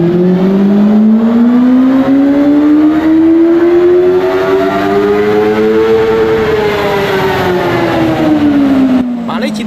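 A tuned Benelli TNT600i motorcycle engine revs hard on a dynamometer. Its loud, buzzy wail climbs steadily in pitch, holds near the top and then falls away before cutting off near the end.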